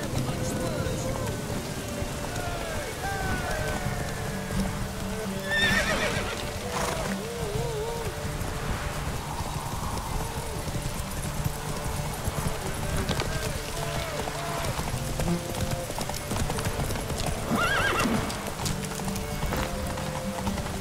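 Roach, Geralt's horse in The Witcher 3, clip-clops along and lets out neighs and snorts amid falling rain, hooves close and steady while voices talk over parts of the scene.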